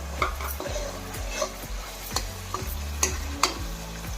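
Tomato paste is stirred into a frying green peas mixture, a spoon scraping the pan in repeated strokes over a soft sizzle, with sharp clinks of metal on metal standing out now and then.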